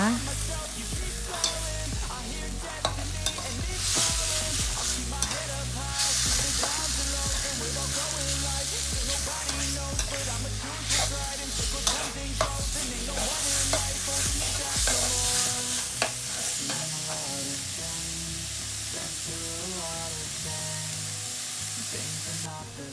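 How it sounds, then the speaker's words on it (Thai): Chicken meat sizzles and crackles as it is stir-fried in a hot pan while a spatula scrapes and stirs steadily, with no talking throughout. "คั่วเนื้อไก่จนสุก แล้วก็มีความหอม"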